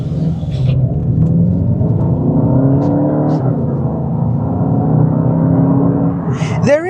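A 2024 Volkswagen Golf GTI Edition 50 engine revs loudly up close, its deep rumble swelling and holding steady for several seconds, with a brief higher whine near the end.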